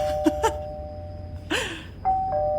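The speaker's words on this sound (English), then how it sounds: "continually presses the doorbell like 30 times until the person comes to the door" A doorbell sound effect rings several times in quick succession, short electronic ding tones with gaps between presses, heard clearly and alone, for a trick-or-treat arrival.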